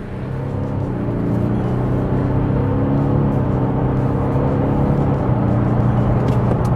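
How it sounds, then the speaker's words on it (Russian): Diesel Toyota Land Cruiser 300 GR Sport accelerating hard from a standstill, a low steady engine drone that swells and holds loud with a little road rush, heard from inside and without talk. "Итак, 0-100 для дизельного Land Cruiser."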